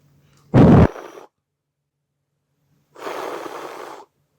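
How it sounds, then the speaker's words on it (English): Two soft puffs of breath blown into a phone's charging port to clear dust, a short close burst followed after a pause by a longer gentle airy blow. "And then you want to blow into the charging port."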